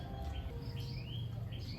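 A bird chirps in a rural Philippine countryside setting during Holy Week, with faint high tweets over a steady low rumble and background noise, fairly quiet and distant.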